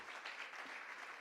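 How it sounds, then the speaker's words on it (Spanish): A church congregation claps at a worship service, a dense, steady patter of hands filling the short stretch at moderate loudness without any voices over it. "Denle fuerte el aplauso a Jesucristo."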